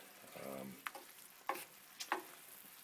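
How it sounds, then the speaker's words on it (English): Mushrooms, leeks and green onions sauté in a pan for beef Wellington, giving a faint, soft sizzle broken by a few sharp spatula scrapes and stirs, with a brief low hum early on. "I'm cooking up my mushrooms, my leeks, my green onions,"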